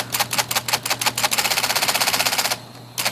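IBM Selectric electric typewriter with a freshly repaired spacebar, typed in a fast, steady run of sharp mechanical key strikes, close and loud, ending in a brief pause and one last clack.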